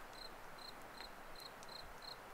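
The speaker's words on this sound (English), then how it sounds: "you can hear that cricket" Cricket chirping by a river at night, a steady series of short, high pulses repeating about twice a second, moderately near and clear over a soft background hiss, with no voices.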